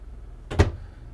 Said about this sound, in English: you got this door closed.